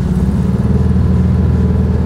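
A 1958 Volkswagen Beetle's engine drones steadily while driving, a loud, close, continuous low rumble with no break.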